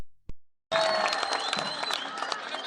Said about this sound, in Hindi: एक बड़ी ताली तो बनती है ना।